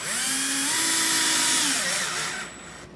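Power drill driving a screw into a cabinet drawer front, a loud close whine that rises in pitch, holds steady for about two seconds, then slows and winds down near the end, with no talking.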